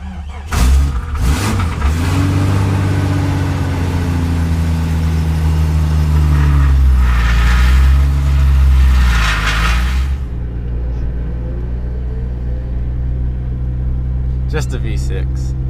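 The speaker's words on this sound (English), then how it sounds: "I don't know if you guys could hear the rattling. The rattling is the catalytic converter, so nothing major." Lifted Jeep with a V6 engine, jump-started, rumbling and revving with a rattling catalytic converter, a loud close engine drone rising and falling before settling into a steady idle, with brief clicks near the end.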